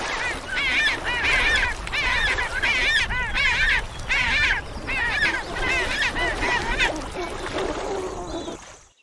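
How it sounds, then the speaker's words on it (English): Penguin giving a loud, honking bray in repeated harmonic bursts, many calls in rapid succession across several seconds, close and continuous as if from a crowded colony. "Penguin."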